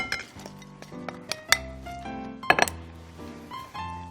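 Bean sprouts, peppers and thick pancake batter are stirred together in a bowl, giving quick clinks and scrapes of utensil on dish with a few sharper metallic taps, close and clear.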